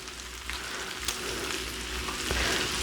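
Breakfast food fries in a pan for a full English breakfast, a steady close crackling sizzle with small pops throughout and no talking.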